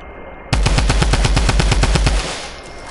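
A rapid automatic weapon fires in a shooting video game, a loud, close burst of about fifteen evenly spaced shots over a second and a half, then a short fading tail.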